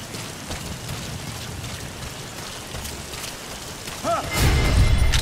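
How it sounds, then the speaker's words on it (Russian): Steady hiss of rain falling in the video game Metal Gear Solid V: The Phantom Pain, even and continuous, with a brief electronic warble and then a louder rush near the end. "Как раз дождь пошел."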